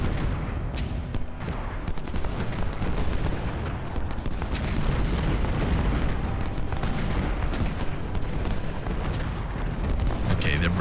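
A Civil War battle at Gettysburg in the strategy game Ultimate General: Civil War, with dense continuous rumbling of massed musket volleys and artillery, loud and unbroken, with a voice talking over it.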